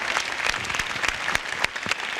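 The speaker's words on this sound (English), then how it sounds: "Please give a round of applause for all of our panelists" Audience applause for panelists at a SoilNotOil 2016 plenary conference session, a steady wash of clapping from many hands with sharper individual claps standing out, loud and close, with no talk.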